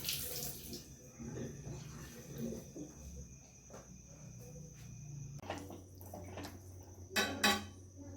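Vegetables being rinsed under a running kitchen tap, a steady hiss of water with clinks of a pot or utensils and a brief louder splash near the end, close and without talk.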